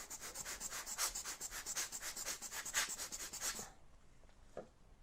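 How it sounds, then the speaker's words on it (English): Blower brush working over a Hasselblad 907X 50C camera, giving a close, soft, brushy hiss with rapid rhythmic puffs for several seconds, then stopping abruptly and leaving faint room noise. "blower brush"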